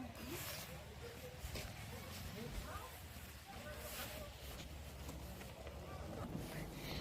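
Wind blows across a tea garden and buffets the microphone in steady rumbling gusts. The roar is constant, with a voice faintly audible beneath it at times.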